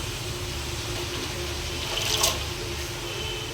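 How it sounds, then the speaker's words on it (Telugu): Washed gongura leaves drop into a pressure cooker with turmeric, giving a steady wet rustle and watery hiss close by, with a brief brighter splash-like burst partway through and no talking. "ఇప్పుడు గోంగూర వేసేస్తున్నా"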